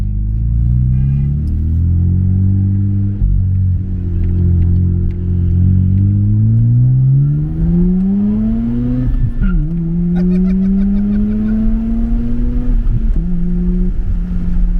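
A right-hand-drive Mazda RX-7 FD with its twin-turbo 13B rotary engine pulls hard, its loud buzzing drone climbing in pitch through the gears, with brief dips at the shifts, heard close from inside the cabin.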